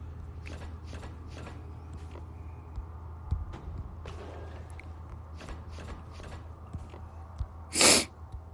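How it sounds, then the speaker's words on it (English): A single sharp, close nasal sniffle bursts out near the end, loud against a quiet indoor background of soft scattered clicks and a low steady hum. "Forgive my little sniffle today."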